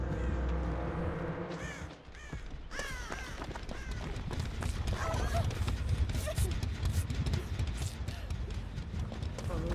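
A flock of crows caws repeatedly in a horror video game, loud harsh calls overlapping over a dense, noisy game soundscape.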